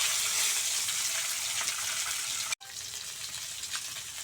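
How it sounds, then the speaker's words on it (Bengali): Silver carp fish pieces frying in oil in a wok, a steady loud sizzle that runs almost unbroken, with one brief dropout partway through. "এখন সুন্দর করে মাছগুলো লাল লাল করে ভেজে নেব।"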